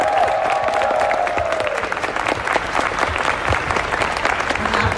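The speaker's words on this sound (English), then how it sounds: "I want to hear a round of applause for the talent on stage" Loud, dense audience applause with some cheering at a nostalgia convention panel, sustained throughout, with a brief tonal voice or whistle early on over the clapping.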